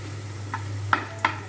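Green chillies hit a hot pan with short bursts of sizzling, three quick crackling spurts over a steady low hum, close and fairly faint.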